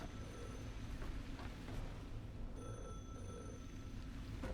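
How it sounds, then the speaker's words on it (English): A telephone rings in the video game The Last Caretaker, faint tonal bursts sitting over a steady low rumbling background drone that runs throughout. "Why can I hear a phone?"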